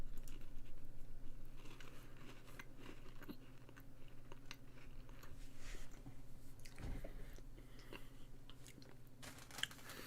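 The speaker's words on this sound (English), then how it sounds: "Let me finish the rest of the graham cracker" Someone eats a graham cracker close up, with soft, irregular crunching and chewing bites spread across the clip over a low steady background hum.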